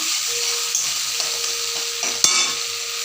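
Spices being sautéed with a pinch of salt for a pointed gourd masala, a steady bright sizzle filling the pan, with light stirring and one sharp utensil knock near the end.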